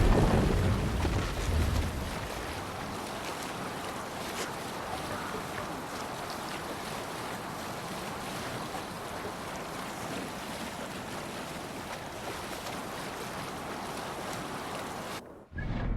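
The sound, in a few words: longship sailing over waves, from video game Assassin's Creed Valhalla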